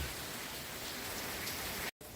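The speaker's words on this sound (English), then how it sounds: "Because we are in the rain." Steady rain falls on a roof in a continuous dense hiss, loud and close, with a brief cut near the end and no voices.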